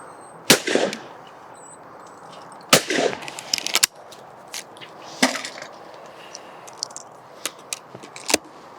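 Shotgun shots fired at clay targets outdoors, about five or six sharp, loud cracks spaced irregularly a second or two apart, some followed by brief echoes, with no talk between them.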